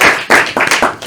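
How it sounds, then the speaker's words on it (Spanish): A few people clap at a session on a sustainable delivery cooperative, giving a short burst of four or five distinct, close claps in a quick uneven rhythm. "Un aplauso, ¿no?"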